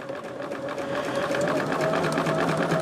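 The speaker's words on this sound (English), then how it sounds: "am just going to go ahead and sew these 2 together." Close and steady, a sewing machine runs a continuous fast stitching rhythm as two pieces of fabric are sewn together across a seam, the motor whir rising slightly after the first second.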